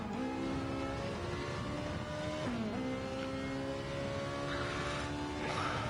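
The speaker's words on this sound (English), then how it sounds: "let's go on to the flying lap with Pup in the Ferrari 458 Italia Gr.4 car" Ferrari 458 Italia Gr.4 race car in a video game on a flying lap at the Nürburgring, its engine droning at a steady high pitch with a quick downshift dip and recovery midway, heard alone without talk.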